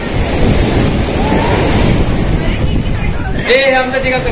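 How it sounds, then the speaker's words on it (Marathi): Sea waves wash up onto Devghali Beach at Kasheli in Ratnagiri, a steady broadband surf rush with wind buffeting the microphone; a voice or tonal sound briefly rises near the end. "हे बघा लाटा वरती यायला लागल्या"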